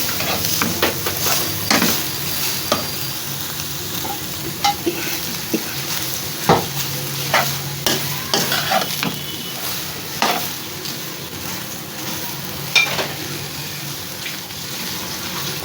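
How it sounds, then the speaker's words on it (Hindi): Potatoes are stir-fried in a pan for samosa filling, a steady sizzle broken by repeated scraping and clinking of a spoon against the pan, close by with no talk. "अब आलू शामिल कर देंगे। इसको भी थोड़ा सा भून लेंगे।"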